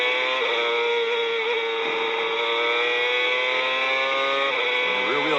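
An IndyCar CART race car engine from 2002 revs loud and steady with dense rising harmonics, then dips and catches again near the end as it refires after a rear tire lockup, with commentary talking over it throughout.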